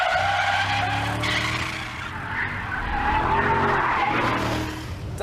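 A BMW E39 sliding sideways through a corner on a race track, tires squealing in long sustained skids over the steady drone of the engine, close and loud with no talk.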